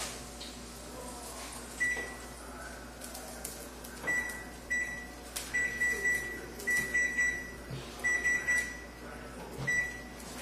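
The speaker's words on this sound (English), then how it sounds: "I'm going to put the timer on." Someone sets a kitchen timer while cooking tilapia with penne, white wine and capers, producing a series of short, clear electronic beeps at irregular intervals over background kitchen noise and faint handling sounds.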